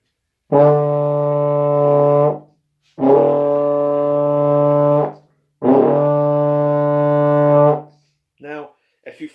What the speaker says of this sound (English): I'm going to play that D one more time, and if you guys have a euphonium